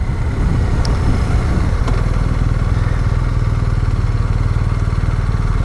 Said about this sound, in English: Oh, hello, a couple of bikers up here.